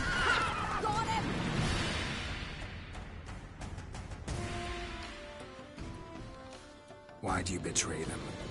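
Roach, a horse from The Witcher 3, gives a clear neigh up close, with brief hoof sounds and a voice speaking alongside in the game scene.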